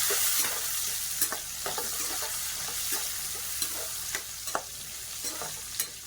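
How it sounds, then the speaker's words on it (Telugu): Grated carrot for carrot halwa fries in a pan, giving a steady close sizzle broken by periodic scrapes and clinks of a spoon stirring, with no one speaking. "బాగా ఫ్రై చేసుకోండి."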